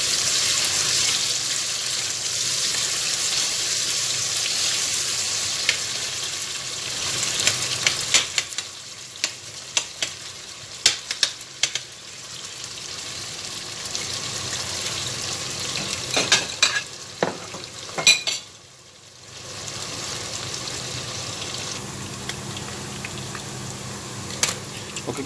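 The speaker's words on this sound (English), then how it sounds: "Now you can put the onion inside. Just mix that well." Onion and potatoes fry in a pan, giving a steady close sizzle throughout while a utensil stirs and scrapes at intervals, with a brief lull near the end before the frying resumes.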